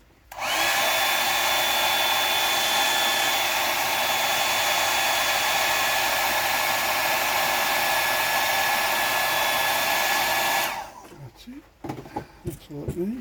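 A hair dryer drying paint on a square-bill crankbait fishing lure blows with a loud, steady whoosh at close range for about ten seconds, then cuts off, leaving brief handling clatter.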